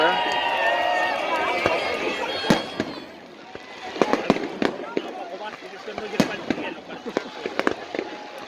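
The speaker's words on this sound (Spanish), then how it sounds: "Se hacía de día con los fuegos" Fireworks at the San Juan festival in A Coruña, 2018, crack and pop in rapid bursts, some sharp and close, over a dense, continuous crowd murmur with voices throughout.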